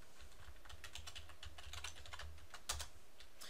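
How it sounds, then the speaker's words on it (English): A password is typed on a computer keyboard: a quick, irregular run of soft key clicks, close and quiet, with one slightly louder press near the end. "You type in your password."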